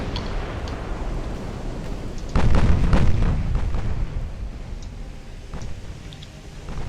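A torpedo strikes a warship in the naval battle game Ultimate Admiral Dreadnoughts, a loud booming blast that swells suddenly and rumbles off over a few seconds amid ongoing battle noise, with faint ticking sounds around it.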